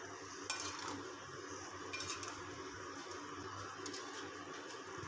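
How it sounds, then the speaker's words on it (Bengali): Fried hilsa fish head and lentil dumplings are stirred into a pot of cooked pumpkin and vegetables, a faint sizzle under soft scraping and a few light clinks of a utensil against the pot. "ভেজে রাখা ইলিশ মাছের মাথা আর বড়ি দিয়ে ভালোভাবে একটুখানি নেড়ে চেড়ে নামিয়ে নেবো"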